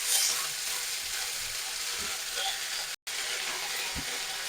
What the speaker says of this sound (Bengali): এবার আমি এই তেলের মধ্যে দিয়ে দেবো সজনে ফুল। সজনে ফুলটা দিয়ে আমি অল্প করে নেড়ে দেবো